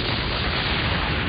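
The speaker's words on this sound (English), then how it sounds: "The monstrous explosion is powerful enough to wipe out a small city." A huge bomb explosion beside several large navy vessels anchored close to shore in a bay, heard as a sustained, loud, dense rumbling roar that fills the whole moment without any break.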